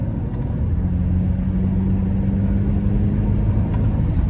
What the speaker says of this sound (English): it sounds really good when you get it up in the rev range and you're kind of pushing on it